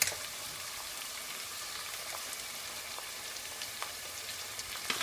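Chopped liver and onions fry in a pan with a soft, steady sizzle and scattered small crackles and pops, fairly quiet and with no talking.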